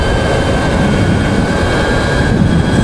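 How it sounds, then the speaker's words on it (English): Loud, steady wind roar buffets a rider on an Altis Sigma bike heading into a headwind at speed, a continuous broadband rush with no breaks. "We're going into the wind right now."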